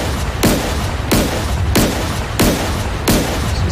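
A Type 052B destroyer's naval gun fires in DCS World, six heavy booming shots spaced about two thirds of a second apart in a steady rhythm, each with a sharp crack and rumbling tail.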